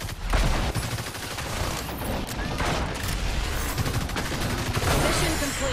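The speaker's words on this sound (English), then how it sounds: "Switching to frag darts." Rapid frag dart gunfire crackles in the video game Evolve, with dense bursts and impacts running for several seconds, loud and continuous with no voices over it.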